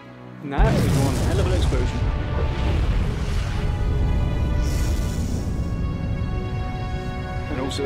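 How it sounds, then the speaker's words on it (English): An explosion in the video game Vanquish goes off with a sudden loud blast, then a dense, sustained roar of crackling debris and rumble that stays loud for several seconds before slowly thinning out. "They've stabilized really quickly, and the explosion's still happening."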